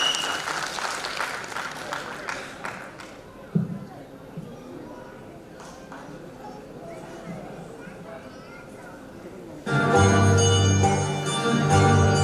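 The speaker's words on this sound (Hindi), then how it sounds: "तो एक बार जोरदार तालियां" An audience at a celebration event claps loudly for about three seconds before it fades into murmuring and scattered sounds, then music starts up strongly near the end.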